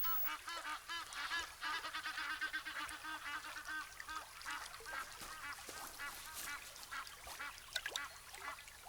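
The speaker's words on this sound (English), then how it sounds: "This goose is fearless." A fearless goose at an African watering hole honks repeatedly in loud nasal bursts, overlapping in a busy stretch of calls with other birds in the background.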